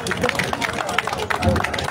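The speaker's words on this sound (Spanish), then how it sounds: "¡Aplauso entonces para los gobiernos aliados!" A crowd at an open-air public gathering claps for the allied governments, with dense, uneven clapping and some voices mixed into the babble. It stays loud and fairly close throughout the short burst.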